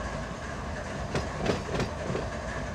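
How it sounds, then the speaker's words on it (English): Train rolling along the track in the Run 8 Train Simulator game, a steady mechanical rumble with a few faint rhythmic clicks of wheels over rail joints, heard alone without talk. "Oh, now we got to drive the train."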